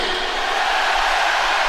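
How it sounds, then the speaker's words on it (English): A large concert crowd roaring and cheering, a dense, steady wash of noise with no breaks, loud and sustained. "Listen to that crowd."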